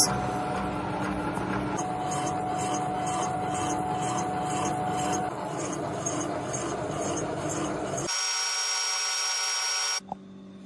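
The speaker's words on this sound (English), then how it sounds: "Here I'm using a slit saw to cut the slot into the housing." A slitting saw on a milling setup cuts a slot into a metal housing, giving a steady loud grinding whine with a faint pulsing rhythm, ending in a higher tone as the cut finishes before stopping.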